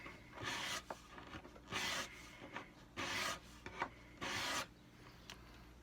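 A wooden guitar top being scraped down to bare wood, four close, rasping strokes of about half a second each, separated by short pauses and small knocks.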